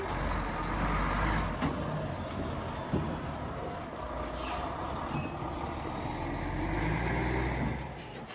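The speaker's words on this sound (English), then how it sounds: "Here comes Shane in the Happy Honey Bee truck, bringing some extra supers for a big day of work." A truck pulls in at a beekeeping site to deliver extra hive supers, its steady engine rumble close and continuous, with a brief air-brake hiss and faint reversing beeps.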